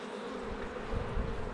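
Honeybees buzz steadily at an opened hive, a dense continuous drone of many wings that stays close and even throughout.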